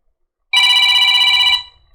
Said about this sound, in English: This is called 80s phone, and prepare to go deaf.